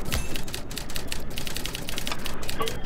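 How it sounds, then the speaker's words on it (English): Typewriter typing in the Murder She Wrote video game: a steady, rapid clatter of keystrokes that runs loud and close for the whole stretch, with no talking over it. "And that's when the thing starts typing."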